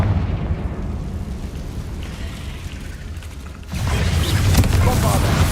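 Confringo fire spell explosion in the Hogwarts Legacy video game, a rumbling magical blast that bursts out loud after a low churning build, with no voices over it.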